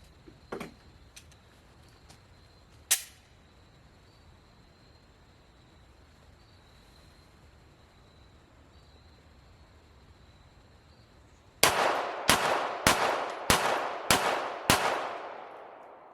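Five loud, sharp reports fire in quick, evenly spaced succession during a Mantis X timed shooting drill, following a long quiet stretch with a few faint clicks and taps.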